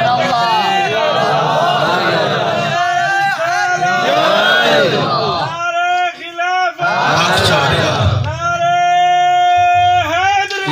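Crowd at a Saraiki religious gathering chanting slogans in unison, loud repeated rhythmic shouts with a lead voice and the group answering, echoing in a large space.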